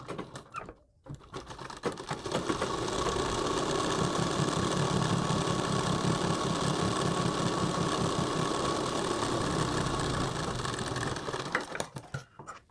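A sewing machine stitches a folded fabric strip for a kurti neck in one continuous, fairly quiet mechanical run of about nine seconds. Brief handling noise comes before and after it.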